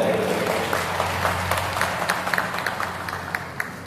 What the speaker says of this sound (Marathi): त्याच्याने एक जोरदार टाळ्या द्या